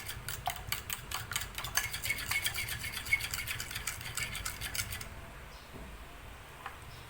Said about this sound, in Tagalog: I-mix lang hanggang sa matunaw talaga.